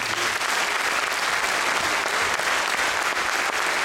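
A theatre audience at Le Havre's Hôtel de Ville applauds loudly and continuously for a performer named Myriam, a thick, even roar of many clapping hands with no talking over it.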